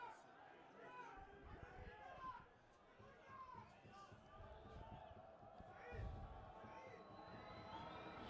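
Football supporters cheer in a stadium during a league match between Damash Gilan and Fajr Sepasi Shiraz, a steady dense crowd roar with scattered shouts, swelling briefly near the end, while a commentator talks over it.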